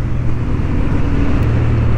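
A Honda Hornet 750 motorcycle engine held at full throttle on a racing track, a loud continuous roar with a slight pitch lift partway through, alone without talk.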